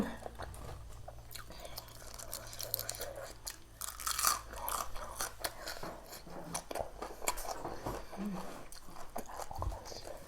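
Raw frog leg, a store-bought dead frog's drumstick, chewed close to the mic: wet crunching and biting bites repeating through the stretch, with soft mouth sounds and faint breathy noises.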